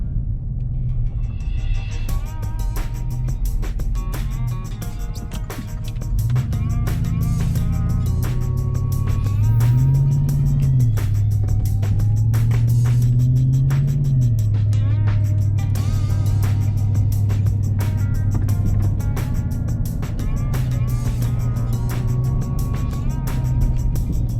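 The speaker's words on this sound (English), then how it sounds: "sticking your hand out the window to record the wheel" A truck wheel rolls along the road, recorded close from outside the window, giving a continuous low rumble with wavering tonal whine and scattered clicks and thumps from the road surface.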